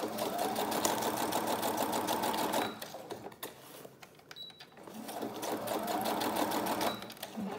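Close, loud sewing machine stitching around a junk journal label in two steady bursts of rapid needle chatter, separated by a short pause with softer handling sounds.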